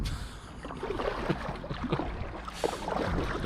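Kayak turning on Creve Coeur Lake, soft paddle splashes and water sloshing close by, with light wind over the microphone.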